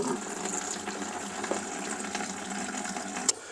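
Coolant drains from the petcock of a Ford Super Duty radiator into a bucket, a steady soft trickle of liquid running throughout with a faint clink near the end.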